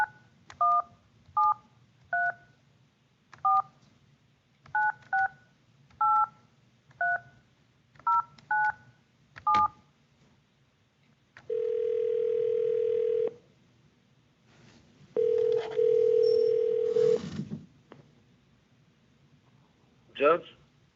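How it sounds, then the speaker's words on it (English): A phone keypad beeps through a quick series of dual-tone dialing digits, followed by longer sustained ringback or dial tones and a brief final chirp, all clear and close. "I'm going to try to dial your phone right now"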